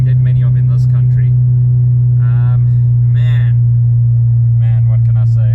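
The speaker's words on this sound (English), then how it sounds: "we got that light exhaust as you can hear droning there" A Honda S2000 with a light aftermarket exhaust drones steadily and loudly at a constant low pitch throughout, with short bursts of talk over it.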